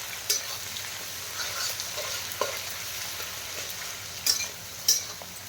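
Onions fry in oil in a pan for a chicken dish, giving a steady soft sizzle with occasional scraping stirs and clinks, close and moderately loud, no talking.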